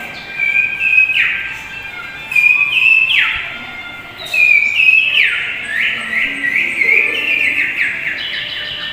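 A human voice imitates birdsong, a series of bright whistled chirps and trills repeating in short bursts over a soft background hiss.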